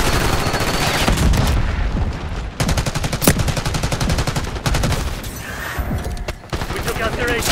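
Gunfire in the video game Black Ops 6, dense rapid automatic shooting that runs loud and nearly continuously, with brief gaps and short booms under the clatter.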